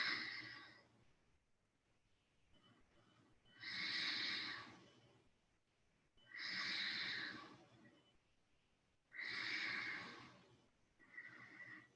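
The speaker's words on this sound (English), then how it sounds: "Breathe." Deep, slow breaths during a seated forward-bend yoga stretch, with three long breath sounds recurring every few seconds, each swelling and fading, close and fairly loud, with no talking.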